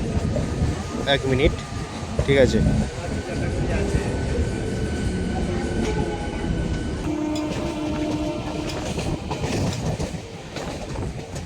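A Panskura-Digha local train stands halted at Rajgoda station, with a continuous rumble, metallic clatter and creaks under people talking nearby.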